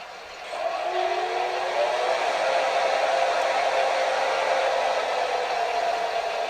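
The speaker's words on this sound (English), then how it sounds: "There's traction motor blower." A traction motor blower sound effect from a TCS decoder in a Bachmann ALC-42 Charger HO model train: a steady whirring drone with a gliding tone that starts after a short quieter moment and then holds constant and fairly loud.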